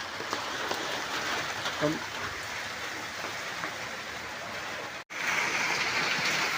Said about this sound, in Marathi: हे बघा अजून पाऊस तर काही थांबलेला नाही आहे